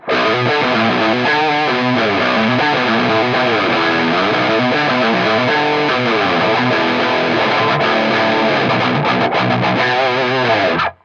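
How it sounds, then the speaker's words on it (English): Heavily distorted electric guitar through an Axe-Fx amp model, dry and in mono, chugs and rings continuously, loud and dense with a saturated, buzzy tone, played alone without any talking. "The first scene I have for this is just a mono dry distorted sound"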